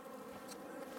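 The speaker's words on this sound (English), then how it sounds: "But you see the bees are boiling out now." Honeybees pour out of an open hive during a colony inspection, making a steady, dense, fairly faint drone that holds evenly throughout, with no talk.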